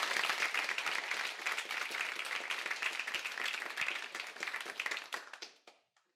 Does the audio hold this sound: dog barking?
no